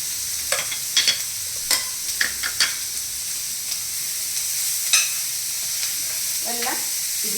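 Ginger and cashews frying in oil in a pan for kadai paneer gravy: a constant hissing sizzle with a few sharp spoon taps and scrapes, close and clear.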